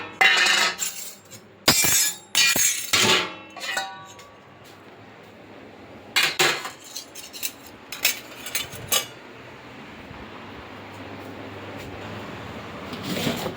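Kitchen utensils and dishes being put away in a home kitchen, a burst of sharp metallic clinks and clatters in clusters, then quieter scattered taps with long still gaps, and no talk.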